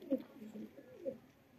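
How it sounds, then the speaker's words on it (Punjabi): A pigeon coos softly twice in short throaty bursts, close by and fairly faint, with little else around it. "ਇੱਕ ਕਬੂਤਰੀ ਆ ਉਸਤਾਦ ਜੀ ਕਬੂਤਰੀ ਆ"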